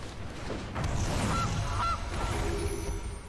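A goose honk from the Gilded Goose card in MTG Arena: two short, clear honks in quick succession over a steady background of game music and ambience, with no talking.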